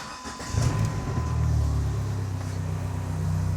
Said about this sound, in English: Now we can jump start the vehicle.